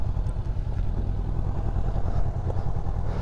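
Steady, loud rumble of a Honda motorcycle engine running up close, continuous and even throughout with a low, throbbing tone and no voices.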